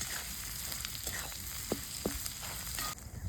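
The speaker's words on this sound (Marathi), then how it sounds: "अंडे पण ठेच्यासोबत व्यवस्थित परतून घेऊ आपण" Fried egg being stir-fried with thecha in a hot pan for anda thecha rice: a steady close sizzle with a few soft scrapes of the spatula, and no voices.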